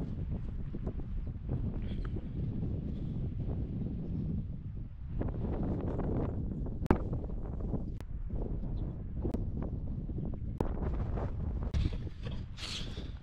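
Strong gale-force wind roars steadily against exposed sea cliffs, buffeting the microphone in continuous loud gusts with occasional sharp knocks and flaps, no voices.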